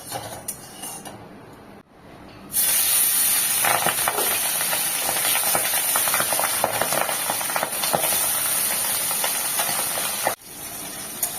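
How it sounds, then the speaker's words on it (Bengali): Soft pabda fish drops into well-heated oil and fries with a steady, bright sizzling hiss that starts after a brief quieter moment and continues strongly, with a short clink of cookware near the end. "এই পাবদা মাছ নরম মাছ, তেল খুব ভালো করে গরম হলে তারপর কিন্তু দিতে হয়"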